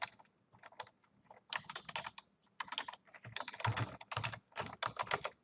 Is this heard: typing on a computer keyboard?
yes